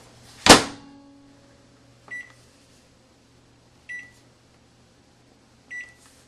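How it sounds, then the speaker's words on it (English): A household microwave oven heating a Twinkie on a plate: a sharp door or button click starts a low steady hum, followed by three short electronic beeps spaced about two seconds apart. "So I am going to microwave it for 10 seconds."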